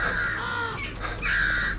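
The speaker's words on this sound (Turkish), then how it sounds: "Virüs yüzünden kargalar en kötüsü haline geldi." Crows caw in the horror mystery game Once Alive, where the birds have turned deadly from a virus; harsh, loud calls come in two bursts, close and dense, with no speech.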